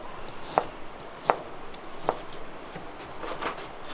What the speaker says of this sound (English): I'm just going to chop up the carrots